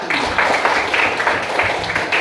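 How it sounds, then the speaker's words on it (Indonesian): A classroom of students applauds with steady, fairly loud clapping that runs unbroken from start to end. "tepuk tangan"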